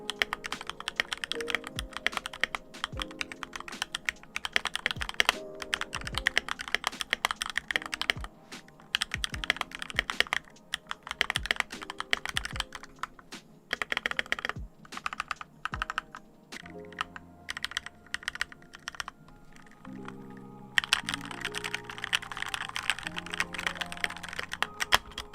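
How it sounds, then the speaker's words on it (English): Continuous rapid typing on a mechanical keyboard fitted with red switches in a gaming and productivity desk setup, clicks and clacks in uneven bursts with brief pauses, close and moderately quiet. "Now you're going to hear a little bit of ASMR with this keyboard."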